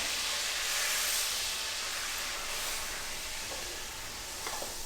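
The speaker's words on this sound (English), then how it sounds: "I'm gonna deglaze the pan just a little bit" White cooking wine hits a hot pan used for shrimp, and a steady, close sizzle with hiss and steam runs throughout, easing slightly toward the end, with no voices over it.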